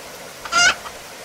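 A single short chicken cluck from a self-programmed video game, a bright, sharp burst in the middle of an otherwise quiet moment, with faint softer blips just before and after.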